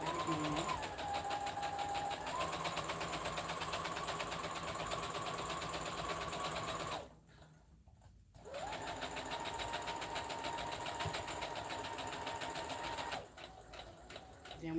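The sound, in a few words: sewing machine stitching along the side of fabric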